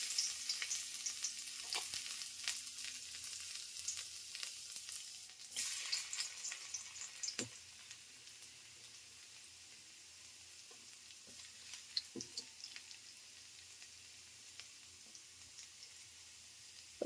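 Chopped garlic fries in hot oil in a pan for a crab curry, giving a soft, steady sizzle that quietens after a few seconds, with occasional faint clicks of stirring.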